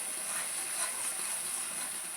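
Tomato fries in oil in a pan with a steady, close, bright sizzling hiss that runs unbroken throughout.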